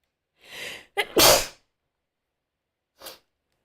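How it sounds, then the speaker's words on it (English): A hay fever sneeze right up close: a quick indrawn breath, then a sharp, loud burst, and a faint sniff or breath a couple of seconds later in otherwise silent surroundings. "Of course, as soon as I talk about my hay fever symptoms, I sneeze."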